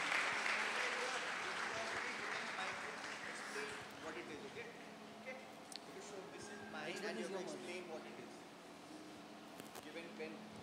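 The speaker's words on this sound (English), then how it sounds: "Please, please clap for Pastor Abraham and Sister Joyce as they" A church congregation at an Easter Sunday service in Delhi applauds as pastors come on stage, a faint, distant wash of clapping that thins out under murmuring voices.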